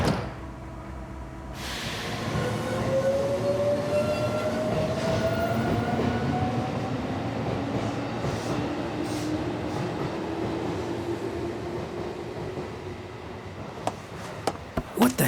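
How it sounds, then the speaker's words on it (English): A train departs from a station track, its rising electric motor whine climbing steadily over a rumbling roar, with a few sharp clunks near the end. "Train leaving from track 4. Please stand clear. Doors are closing."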